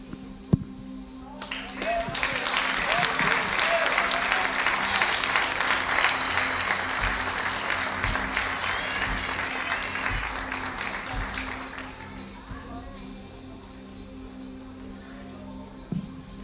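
A church congregation bursts into sustained applause during a joyful worship service, broad clapping swelling from about two seconds and fading near twelve, with voices and faint music underneath.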